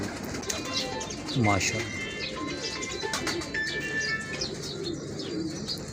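Old pigeons kept by a fancier coo and chirp in a loft, with occasional wing flaps, while someone talks over them throughout.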